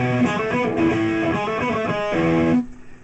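A heavily distorted electric guitar plays a fast, dense riff for a few seconds before cutting off abruptly.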